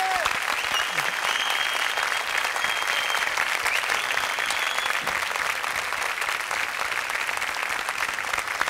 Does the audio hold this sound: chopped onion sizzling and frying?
no